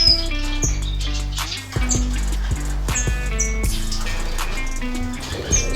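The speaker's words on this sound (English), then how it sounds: "parrot finches" Parrot finches in an indoor bird room give a dense, steady stream of high chirps and tweets, with repeated short calls layered over a constant background of song throughout.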